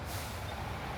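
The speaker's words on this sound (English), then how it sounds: "There comes another bus." Bus air brakes hiss in Cuba, a steady broadband rush of air over the low rumble of a heavy idling engine close by, lasting about a second with no talk.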